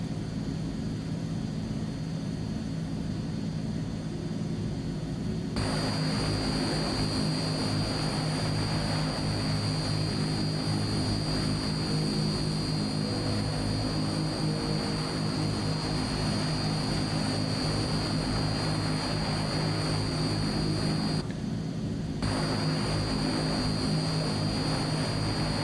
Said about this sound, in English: Not that the engines are running, we can bring down the flight sim sound just a little bit.